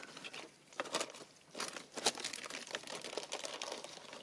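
Crinkling foil wrapping from a stone being handled, giving irregular dry crackles and rustles in short bursts, fairly close and moderately quiet, with no voices.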